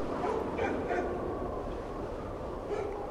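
A dog barks several times in the World War II shooter Medal of Honor: Allied Assault, in a wintry outdoor level. The short, moderately distant barks sit over constant noisy game ambience.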